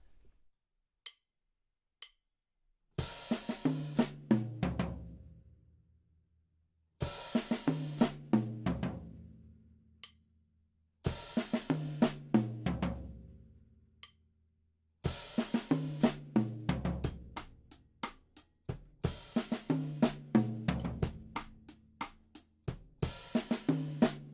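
Drum kit playing a Grade 2 blues groove with open hi-hat: after a few faint ticks, repeated bars of kick, snare and ringing cymbal hits start and stop in phrases, close and moderately loud, with no talking.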